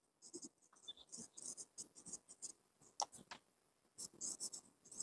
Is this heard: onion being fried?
no